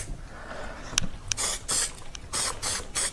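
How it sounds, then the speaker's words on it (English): Cleaner sprayed from an aerosol can onto the rear brake disc of a Royal Enfield Himalayan motorcycle, heard as several sharp close hissing bursts with short pauses, followed by clicking of the nozzle. "I'm just going to spray a bit up there, get that all nice and clean."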